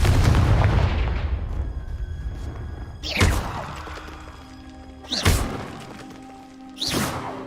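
Confringo blasting spell explosions in the video game Hogwarts Legacy: four loud, sharp blasts, each with a booming thud that decays over about two seconds, the first already ringing out as the others follow at even intervals.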